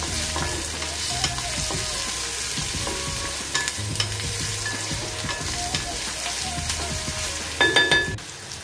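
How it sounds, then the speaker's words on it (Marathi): Onion and curry leaves sauté in a pan for a prawn masala, giving a steady close sizzle with scraping stir strokes and a brief louder clatter near the end. "कढीपत्ता, कांदा छान असा परतून घ्यायचा इथे"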